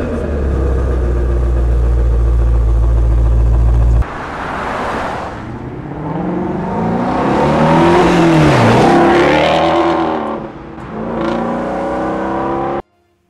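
A deep naturally aspirated V8 engine starts with a burst and roars through loud, throaty revs that climb and fall, ending abruptly after several swells.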